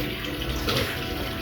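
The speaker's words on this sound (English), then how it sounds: "There's the washing up, the scrubbing, and then there's the rinsing" Tap water runs steadily while dishes are rinsed in a sink, a close, even splashing rush with no speech.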